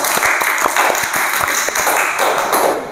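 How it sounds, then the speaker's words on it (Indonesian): Audience applause at the Duta Genre Sumenep pageant for the first-place winner, brisk loud clapping from a crowd with distinct claps, fading slightly at the end. "Sekali lagi beri tepuk tangan dulu yang meriah buat Kak Ayu."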